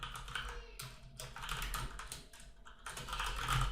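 Fingers type a name on a computer keyboard in quick, uneven bursts of close clicking keys, with short pauses between runs of keystrokes.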